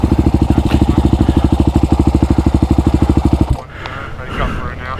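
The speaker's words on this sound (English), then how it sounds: "Oh shit, I just turned my bike off." Motorcycle engine running with a steady, fast chugging pulse that cuts out abruptly as the bike stalls, followed by quieter background rustle and faint voices.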